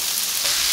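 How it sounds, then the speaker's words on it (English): Steak meat sizzling on a hot griddle for Philly cheese steaks, a short, steady hiss of frying that holds at close range throughout. "Look at that. Sizzling."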